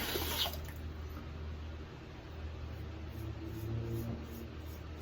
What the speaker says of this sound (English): Get a good rinse going on here.